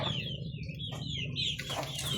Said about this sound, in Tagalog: Atong mga chicken diri nasa gawas.